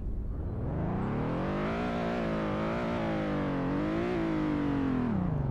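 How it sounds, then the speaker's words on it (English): Older pickup truck engine revved while parked, a loud, close drone that climbs in pitch, wavers through several pulls on the throttle and drops off at the end. "Let's rev it up."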